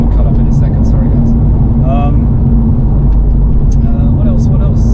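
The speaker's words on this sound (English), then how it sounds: "That's the air conditioning. It'll cut off in a second." Inside a Porsche 997 911, the air conditioning runs as a steady low hum and whir beneath the cabin's rumble, with a person talking over it throughout.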